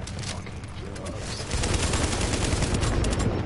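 Enemy gunfire in The Division, rapid rattling bursts that grow louder and denser partway through, with faint voices underneath.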